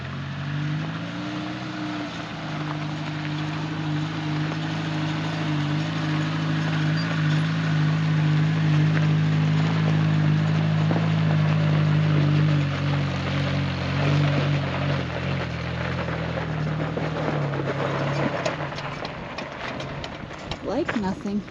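The 1.3-litre engine of a 1987 Suzuki Samurai fitted with a swapped carburettor, running steadily at low RPM in high range, a loud, continuous droning hum that holds an even pitch throughout.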